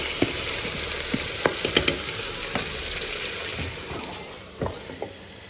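Marinated chicken sizzles and fries in a pot for biryani, a dense steady hiss broken by scattered clinks and stirring knocks, close and fairly loud with no talk.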